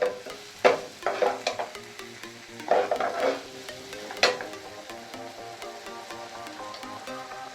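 Green chilies and salt frying in a pan with tomatoes give a steady soft sizzle, broken by louder bursts of scraping and stirring from a spoon.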